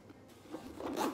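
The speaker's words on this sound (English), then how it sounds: "It's got a zip" A zipper runs along the compartment of a carry-on bag, a short close rasping pull that grows louder toward the end, heard alone without talk.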